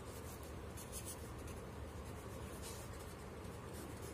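Writing on a board during a maths lecture makes faint, steady scratchy strokes that run the whole time, with no clear speech.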